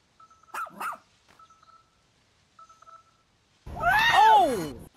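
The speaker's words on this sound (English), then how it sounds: "That is a strong little alien dog." Alien rescue pup barking in the video game Pikmin 4, a burst of loud, close, harmonic yaps near the end following a few faint synthetic blips and short game chirps.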